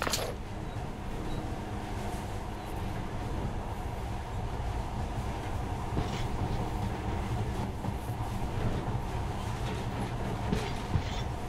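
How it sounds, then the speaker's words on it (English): A monorail train in the video game Metro: Last Light Redux runs steadily, with a continuous rumbling drone and faint rhythmic rattles, fairly loud and unbroken, with no voices present. "In the past, trains were ordinary things. But now, this monorail seems magic, doesn't it?"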